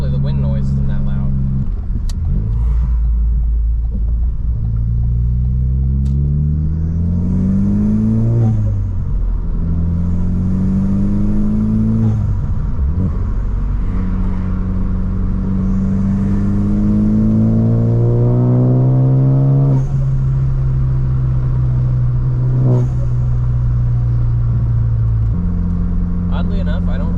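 A tuned car drives on the road with a loud steady engine drone rising through repeated gear pulls, rumble and wind noise throughout, while a person talks over it.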